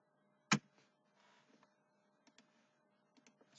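A computer keyboard being typed on quietly, one sharp loud keystroke followed by a few scattered soft key clicks in a quiet room.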